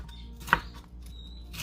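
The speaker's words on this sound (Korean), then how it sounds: "파프리카 썰어서 죽순 크기로 잘게 자르겠습니다." A knife cuts paprika on a cutting board into small pieces, with two sharp, isolated chops spaced about a second apart over quiet background.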